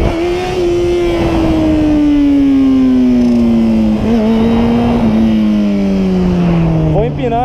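Yamaha FZ6N (Fazer 600) motorcycle engine loud and close, a sustained high rev whose pitch sinks gradually, with brief shift breaks near the end, a voice talking over it.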